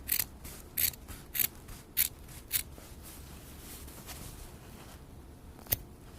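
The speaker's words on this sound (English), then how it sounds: "So I'm just going to take my scissors. I'm just going to trim right next to it" Scissors snip fabric close to the stitching on a quilt project, five quick crisp cuts in an even rhythm followed by a pause and one final snip, close and clear against a quiet room.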